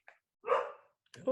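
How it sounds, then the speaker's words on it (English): A dog gives a short bark or two close by, with a brief spoken word at the start of the clip. "and that is my dog."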